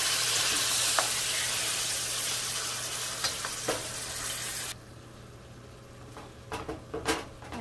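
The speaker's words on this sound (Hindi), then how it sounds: "अब कीमा डालेंगे इसमें," Minced meat frying and being stirred in a pan with softened garlic and onion for potato mince, a loud steady sizzle with occasional utensil scrapes, then quieter sizzling with a few clinks and stirs toward the end.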